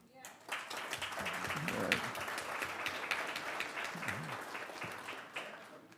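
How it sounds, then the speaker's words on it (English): A city council chamber audience at a special Waukegan meeting gives a short round of applause for the mayor's birthday, the moderate clapping swelling then thinning while a few voices talk over it. "Can we get a little applause?"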